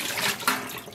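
Leftover acid dye bath water is dumped out into a sink after dyeing wool roving, a brief close pour and splash lasting about a second.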